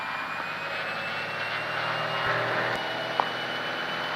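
Piper Arrow single-engine propeller airplane at full takeoff power on the runway, a steady loud engine drone with propeller hum filling the whole stretch, rising slightly midway, with a brief click near the end.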